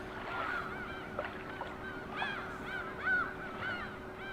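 Seagulls call over and over across a steady wash of ocean ambience at the Iram Seaside space in PlayStation Home. The short, high cries are scattered and fairly faint against the constant surf-like hiss and a low hum.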